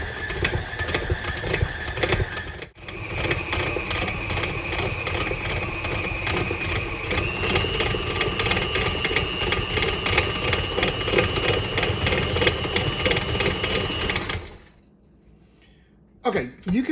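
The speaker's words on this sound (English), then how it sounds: "we're going to beat this until the butter and the brown sugar is combined and it's light and fluffy" An electric mixer beats butter and brown sugar for cranberry brown sugar cookie dough, a steady mechanical whirr that steps up in speed partway through, runs for many seconds, then cuts off abruptly.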